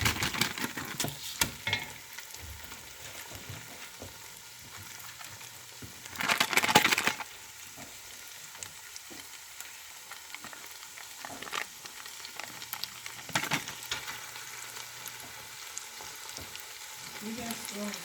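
Garlic and cream cheese cooking in a pot for spaghetti carbonara: a steady low sizzle with scraping stirs and a couple of louder bursts of spatula-on-pot clatter, close and continuous.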